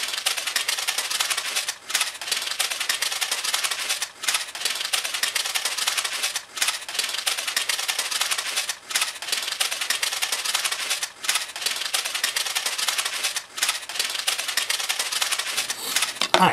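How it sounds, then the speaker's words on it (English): Continuous crisp snipping of scissors through paper, steady and close, with brief pauses every couple of seconds between runs of cuts. "take your scissors and cut around the whole outside of the pattern"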